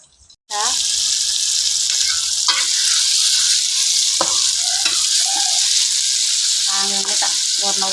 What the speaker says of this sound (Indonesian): aku goreng tempe